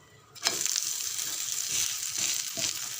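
Ragi rava dosa cooks in a little oil and gives a bright, continuous sizzle that starts abruptly and holds steady at moderate loudness.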